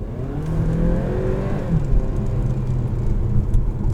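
A 2022 Kia Sportage SX's 2.0-liter turbocharged inline-four pulls hard under acceleration, a steady close engine drone with rising pitch and light whirring inside the cabin.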